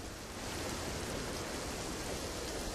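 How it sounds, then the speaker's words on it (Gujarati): Heavy monsoon rain pouring down in Keshod, Junagadh, Gujarat, a dense, unbroken hiss and roar of water that holds at a steady level, with no voices. "આ સતત 6 દીથી વરસાદ આમનામ ચાલુ છે."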